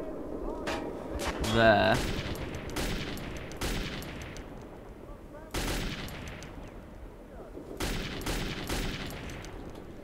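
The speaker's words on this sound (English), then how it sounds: "they're shooting at us" Gunfire in the Metro 2033 video game: repeated sharp shots and bursts ring out through the whole stretch, some loud and some softer, with a voice speaking briefly among them.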